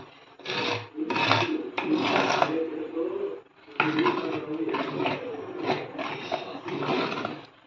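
Thick ragi porridge stirred in a cooking pot, a continuous scraping, rasping rub of the spoon against the pot in repeated strokes, fairly loud and close, with one short pause and no talking.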